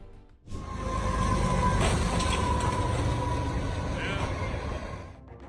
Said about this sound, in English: A train crashed into a car off of Highway 99 in California